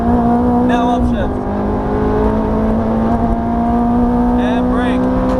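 Ferrari F430 engine pulling hard under throttle on track after an upshift, a loud steady drone with a brief dip near the one-second mark before the pitch climbs again, with voices talking over it.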